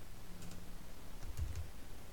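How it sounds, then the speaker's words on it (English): A few quick, soft clicks of keys on a computer keyboard, light typing in short bursts against a quiet room background. "Just put a quotation mark, there we go, and type hello"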